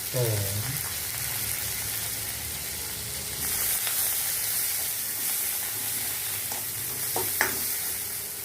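Asafoetida drops into hot tempering oil while arai keerai kootu is being made, giving a steady, close, hissing sizzle throughout, with a few light clinks of stirring near the end.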